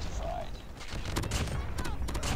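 Gun hip fire in a shooter video game with a Damascus MX9 submachine gun: rapid bursts of sharp shots crackle over a dense, noisy mix of game effects, loud and continuous throughout.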